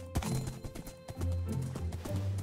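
Horse hooves clip-clopping across ground in Minecraft, a steady run of hard, close, rhythmic clops with a brief whinny-like tone, no talk over it.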